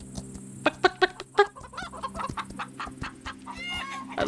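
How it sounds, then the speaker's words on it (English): Chickens cluck in the video game Equinox Homecoming, several sharp, close clucks in quick succession followed by softer scattered clucking and squawks, with no talk over them. "Chickens."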